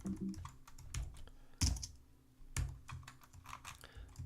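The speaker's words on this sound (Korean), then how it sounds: "S키 눌러서" Computer keyboard keys are pressed during a Cinema 4D software session, a few quiet, distinct clicks and taps spaced irregularly, close and alone over faint room hum.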